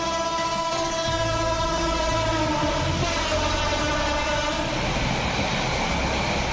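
A Dhaka–Chittagong express passenger train rolls past in Bangladesh, a loud, steady rumble of wheels and carriages with a sustained horn-like tone running continuously throughout.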